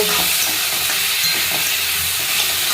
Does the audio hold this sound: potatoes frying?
yes